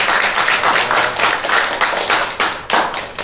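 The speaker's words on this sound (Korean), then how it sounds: "청년들에게 한번 다시 한번 박수 한번 보내드릴게요." A church congregation claps for the young people during a Sunday afternoon service, a close, loud burst of many hands in quick uneven rhythm that carries on for a few seconds.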